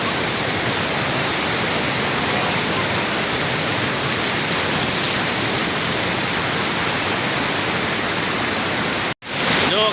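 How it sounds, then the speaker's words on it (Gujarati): Waterfall at Osam Hill after heavy rain, a dense, steady roar of rushing water close by, loud and unbroken, with a brief dropout near the end. "ગામ લોકો આ ધોધ જોવા માટે અને અહીંયા નાહવા માટે આવી રહ્યા છે"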